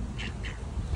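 Ducks quack in short, nasal bursts, about three calls within a second, heard fairly close over low outdoor background noise.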